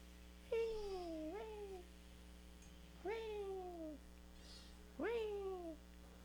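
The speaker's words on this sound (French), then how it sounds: "Ton chat, il a la voix la plus douce qui existe." A cat gives three soft, drawn-out meows, evenly spaced a couple of seconds apart, heard close and clear over a steady low hum.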